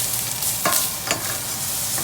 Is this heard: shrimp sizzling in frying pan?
yes